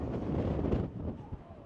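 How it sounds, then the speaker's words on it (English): Strong wind sweeps through a mosque courtyard in Baku, a loud rumbling buffet across the microphone that surges and eases, with faint voices under the roar. "it is so stinking windy"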